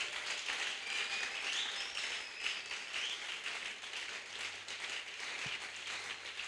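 A church congregation at a Christian conference gathering applauds in acclaim of Jesus, a faint, sustained patter of many hands clapping at a distance.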